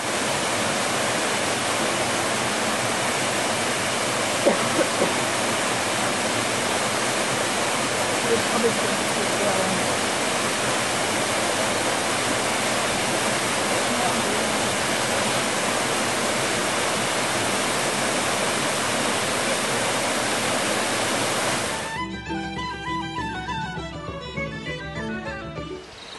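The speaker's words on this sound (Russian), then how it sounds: "Другие водопады каскада." Waterfalls in a cascade roar with a loud, steady, unbroken rush of water that fills the scene for over twenty seconds before giving way abruptly to a different, patterned sound near the end.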